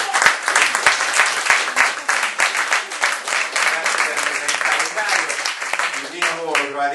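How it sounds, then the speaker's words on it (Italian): A live audience at an Italian book conversation event claps continuously, a broad sustained round of applause that holds steady throughout, with a voice speaking faintly near the end. "facciamo anche un applauso"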